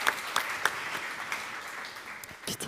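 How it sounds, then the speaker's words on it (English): Conference audience applauding, a fairly faint, steady wash of many hands with a few sharper claps standing out, tapering slightly before a brief final flurry. "Maybe one last round of applause."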